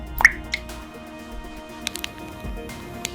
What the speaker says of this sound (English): Watch and listen as the icing drips slowly down the cake.